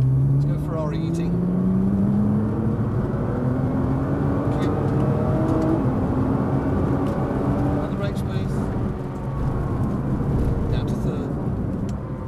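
A Nissan GT-R on a track driving experience accelerates at full power, its engine note climbing steadily in pitch, then settling into a sustained roar inside the cabin, with talk faintly underneath.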